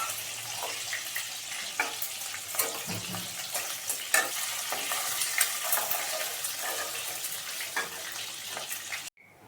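Shankar fish pieces fry in hot oil over a gas flame with a constant close hiss and scattered crackling pops, the sizzle holding steady before cutting off abruptly near the end.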